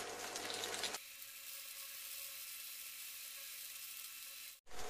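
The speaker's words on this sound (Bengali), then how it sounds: "এই তেলে গাঁঠি কচিগুলো ভেজে নেব।" Taro corms frying in mustard oil, a continuous faint sizzle with a low steady hum that runs evenly for several seconds before cutting off abruptly near the end.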